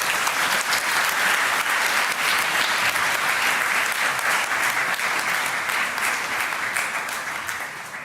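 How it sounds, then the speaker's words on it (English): Sustained applause from a large audience greeting youth speakers called to the front at an International Youth Day event, dense steady clapping throughout that thins slightly at the end. "Let's give them a round of applause,"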